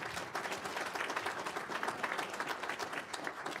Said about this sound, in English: give yourselves a big round of applause again